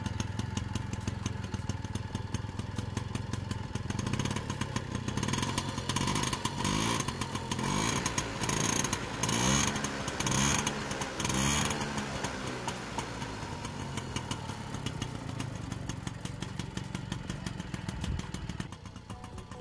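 A new Motobécane 51V moped with its engine still being run in, idling and revving a little, a steady buzzy two-stroke drone with throttle rises heard close and alone for about twenty seconds.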